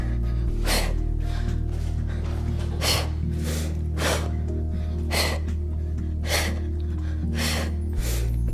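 Heavy, rhythmic breaths during a yoga workout, about eight forceful inhales and exhales in steady succession over a constant low background hum, close and loud.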